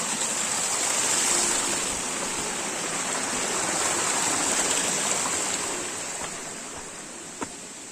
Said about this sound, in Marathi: परत आपल्याला एक ओढा लागतोय